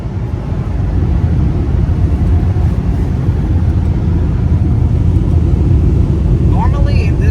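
Car wash dryers in a Laserwash G5 wash at a Circle K blow with a loud, steady low roar heard from inside the car, continuous throughout with someone talking over it.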